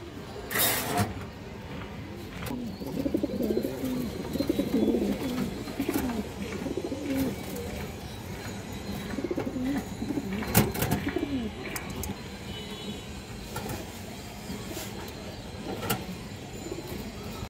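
Pigeons at a pigeon farm coo repeatedly at close range, soft rolling calls recurring through the stretch, with occasional clicks and knocks and no talk.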